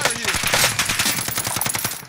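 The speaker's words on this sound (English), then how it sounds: "Under heavy fire here." Rapid automatic gunfire from a battle royale video game rattles loudly and continuously, dense overlapping shots filling the short span.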